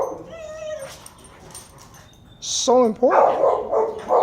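Dogs whimper in a thin, high whine, then break into a burst of loud, close barks and yips, with a person talking over them.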